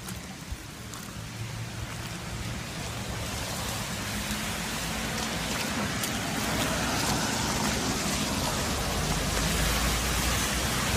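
Floodwater rushes through city streets in Irkutsk continuously with a broad, steady roar that swells slightly louder toward the end, with no voices.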